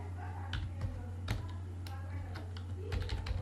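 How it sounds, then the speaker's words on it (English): Typing on a computer keyboard: a quiet, uneven run of soft key clicks and taps close to the microphone, over a low steady hum. "at first I comment this and I type another color"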